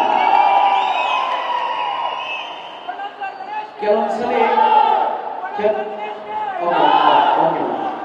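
A large crowd at a film event for Krishnam Pranaya Sakhi roars with cheers and chanted hails, rising in loud surging waves while someone speaks over the noise.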